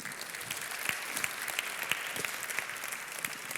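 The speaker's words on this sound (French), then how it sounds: "On peut encore vous applaudir." Audience applause at an awards evening, a steady wash of clapping from a large room with a few sharper individual claps standing out, moderately loud and unbroken throughout.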